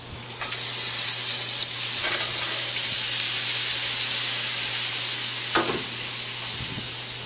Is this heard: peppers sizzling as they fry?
yes